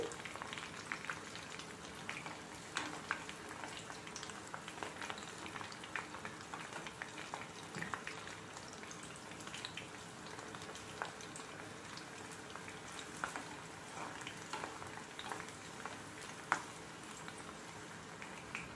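Garlic and small onions frying in oil for mango thurumu pachadi, giving a soft, continuous crackle with scattered tiny pops, quiet and steady throughout, with no voices over it.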